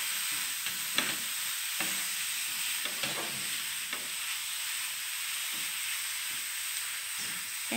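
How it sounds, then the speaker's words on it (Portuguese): Carrot farofa fries in a pan with a steady loud sizzle, broken by repeated scraping clicks of stirring at an irregular pace, close up with no talking. "Mexendo sempre para não queimar."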